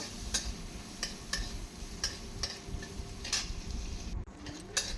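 Cashews and raisins fry quietly in ghee, a soft sizzle broken by scattered sharp pops and ticks.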